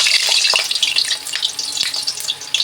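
Potatoes crackle and hiss in hot mustard oil, a dense bright sizzle that stays loud and close throughout, with small pops and stirring scrapes.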